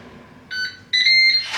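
A Ninja Speedi cooker timer beeps in two short electronic tones, the second longer and louder, close by in a quiet room.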